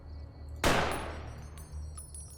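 A single loud gunshot from the game Fallout: New Vegas cracks sharply and decays over about half a second, followed by faint game ambience and small clicks.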